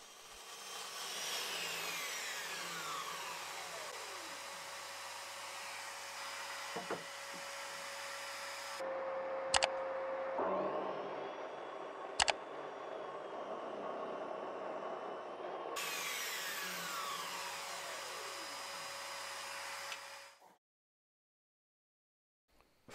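A DeWalt DWE 7485 saw cuts wooden fence pieces to length, its motor whine and blade rasp running loud and continuous. Two short breaks with sharp clicks fall midway, then the cutting stops and silence follows.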